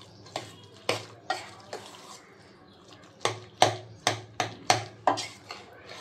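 A spoon mixes ingredients with coriander in a bowl for litti chokha, scraping and clinking in a series of sharp, evenly spaced strokes, close and fairly quiet with short gaps between them.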